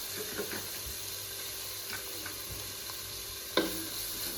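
Finely chopped onions fry with cumin for kothu parotta, a soft steady sizzle with a few stirring scrapes and one sharp utensil knock near the end, no talk.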